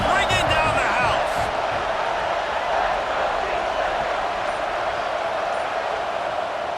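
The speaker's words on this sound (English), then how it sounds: "this crowd is bringing down the house" A packed Texas A&M college football stadium crowd roars before a third down, a loud, sustained wall of cheering with a few sharp shouts and whistles near the start.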